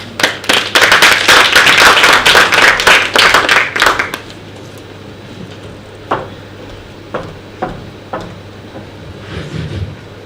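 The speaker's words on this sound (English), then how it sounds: "A round of applause, please." Audience clapping after remarks at a parliamentary commemoration event, loud and close for about four seconds, then stopping and leaving only a few scattered single claps spaced out over the remaining seconds.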